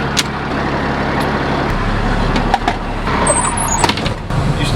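A truck drives toward an ethanol plant. Its engine and tyres give a steady, loud road roar with a few faint squeaks and rattles, and no voices are heard.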